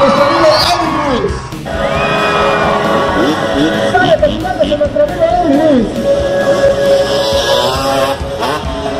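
A loud outdoor crowd at a freestyle motocross show in Tlalnepantla cheers and whoops for a rider, close and busy, with shouting voices and a high pitched whistle over the noise.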